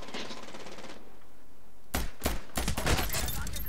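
Rapid bursts of pistol and rifle gunfire in a Medal of Honor Warfighter multiplayer match, loud sharp cracks clustered in the second half after a quieter stretch of game ambience.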